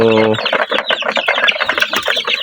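Forty-day-old chicks and chickens on a farm cluck and peep in a dense, close chorus of short rapid calls, with a brief human voice at the start.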